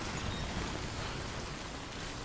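Steady, dense rain falling in the video game Death Stranding, a continuous hiss of drops spread across the whole range, loud and unbroken from start to finish with no voices.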